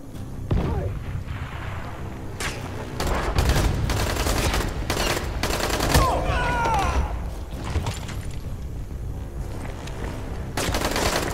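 A grenade blast and bursts of gunfire in the video game Dying Light, with rapid cracking shots and thuds over a busy game soundscape, while a player talks briefly.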